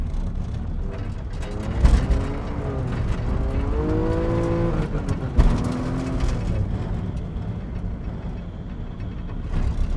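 A Mitsubishi 3000GT driving on a rough road: the engine hums and rises through gear pulls, with bumps and thumps from the uneven surface, notably around two and five seconds, steady and close throughout.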